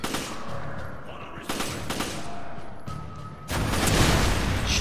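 Salvo of gunfire in Resident Evil 5, with several sharp bursts of shots spread across the span and a louder, denser blast at the end, close and loud.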